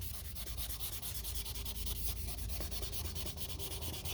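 Wet sanding on black car paint with 1000-grit paper makes a loud, steady rhythmic rasp of rapid back-and-forth strokes, close up and without speech.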